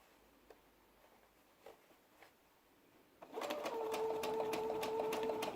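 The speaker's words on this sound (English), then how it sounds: "just go slow and sew a line straight down there" A sewing machine stitches a straight line through cotton face mask fabric, starting after quiet handling sounds and running in a loud, rapid steady whirr close by.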